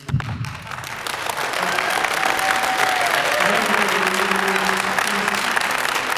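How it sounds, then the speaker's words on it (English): Audience applause fills a public meeting hall on the Wheelabrator Saugus ash landfill valley fill project, sustained and dense for several seconds, with a few faint voices and tones underneath. "Please hold the applause so we can get through all the commenters that want to speak tonight"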